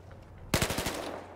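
Rapid burst of automatic gunfire in the video game Battlefield Hardline, Heist mode: a sharp run of about five close shots fired quickly after a short quiet lead-in, each crack clearly spaced, with a ringing tail afterward.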